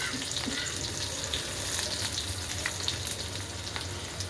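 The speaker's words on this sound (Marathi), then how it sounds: "कांद्यासोबत कोथिंबीर टाकली ना हिरवीगार भाजी कोथमीर तळून निघते ना" Onion and fresh coriander fry in hot oil in a pan, giving a steady close sizzle with faint crackles and no talk.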